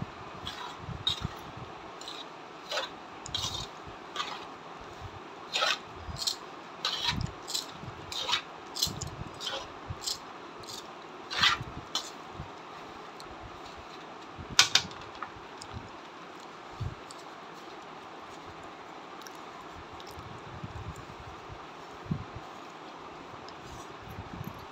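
Rava and besan laddoo mixture of semolina and gram flour being mixed and crumbled by hand, heard as quiet, repeated rubbing and rustling strokes with soft gritty scrapes, steady throughout and without talk.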